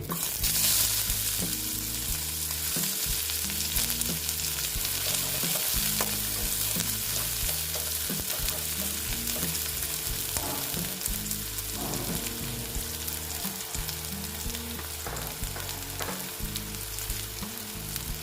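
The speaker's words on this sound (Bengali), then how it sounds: "পেঁয়াজটা ভেজে নিচ্ছি দেখো পেঁয়াজটা একটু লাল লাল করে ভেজে নিচ্ছি" Chopped onion with nigella seeds fries in hot oil, a loud continuous sizzle with scraping stir strokes running steadily throughout, close up and with no voices.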